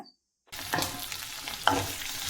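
A spoon stirs drumstick (moringa) stir-fry sizzling in a hot clay pot, steady frying hiss with a couple of sharper scrapes, close by, after a brief silent start.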